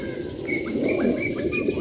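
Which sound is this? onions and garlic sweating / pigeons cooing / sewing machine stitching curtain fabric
pigeons cooing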